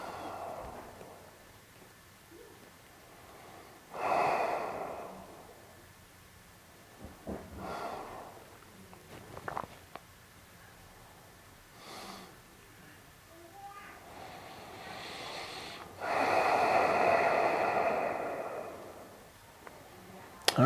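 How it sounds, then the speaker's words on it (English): During a yoga session, slow, deep breathing comes in several long, audible inhale and exhale cycles, soft and close, spread apart by quiet pauses, with a faint background hum. "Big inhale, slow exhale."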